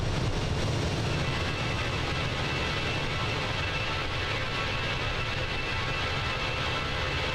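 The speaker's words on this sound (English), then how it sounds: "Those engine sounds, I tell you," Jet engines of a Fenix A320 in Air Canada livery in Microsoft Flight Simulator, a steady, loud broadband roar with heavy low rumble that holds constant throughout, no voices present.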